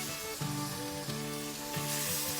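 Snook fillets sear in a hot pan with a steady, close sizzle, while faint harmonic tones ring over the frying and a few soft scrapes and knocks sound as the fish is moved.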